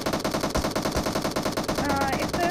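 Rapid automatic gunfire from the video game PUBG rattles in quick bursts, loud and close, with short gaps between volleys.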